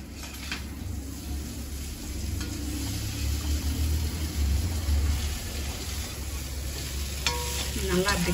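Batter sizzles in a pan with oil poured around it, giving a steady, close, continuous frying hiss over a low background hum, with no talking.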